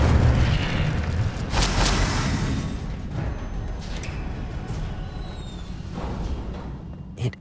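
An Incendio fire spell cast in Hogwarts Legacy bursts out in booming, fiery blasts, several loud surges of crackling flame and rumble spaced a few seconds apart.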